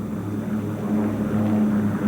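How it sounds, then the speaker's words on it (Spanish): Ilyushin Il-2 ground-attack planes fly overhead, their propeller engines making a steady droning hum that holds at a constant loud level throughout the short stretch. "Sobre esta volaban grupos de Ilyushins Il-2,"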